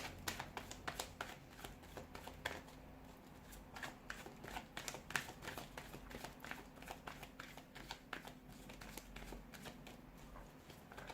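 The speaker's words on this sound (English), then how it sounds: "let's go ahead and give the cards a shuffle" Tarot cards being shuffled by hand, a steady run of crisp riffling and flicking bursts that continues throughout at close range, with no talking.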